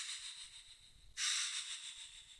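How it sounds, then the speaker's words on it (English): A synth breathing-effect hiss like arctic wind, from the making of XXXTENTACION's "SAD!", soft at first, then swelling suddenly into a louder, steady breathy rush that holds to the end. "Then we're making this sort of chilling, like Arctic wind sound."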